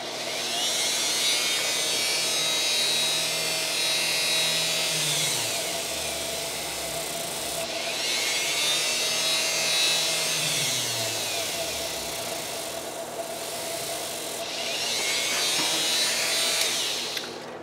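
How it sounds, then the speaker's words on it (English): A Dremel rotary tool cuts a circle into EVA foam with a high, buzzing whine. It runs in long bursts, and its pitch sags and winds down between passes, with no speech. "we're going to fire up our Dremel tool or rotary tool of your choice"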